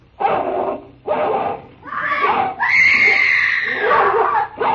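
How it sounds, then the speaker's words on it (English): A woman screams and shrieks while a dog snarls and yelps in a fight over a dead body, a staged radio drama scene; loud, close, continuous struggling cries with brief pauses. "A woman fighting with a dog."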